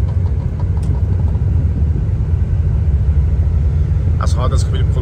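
A car engine rumbles steadily and loudly throughout while driving, a deep continuous drone with a brief voice near the end.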